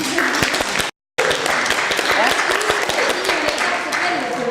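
Audience applause at a talk on non-formal learning in a multicultural setting, a dense spread of clapping that cuts out briefly near the start, then resumes steadily, with speech mixed in.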